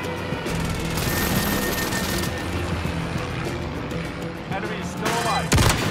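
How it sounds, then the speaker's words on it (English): Airstrike explosions mixed with gunfire in a video game, a continuous rumbling barrage with sharp reports and a heavy blast near the end, voices talking underneath. "bring on the airstrike"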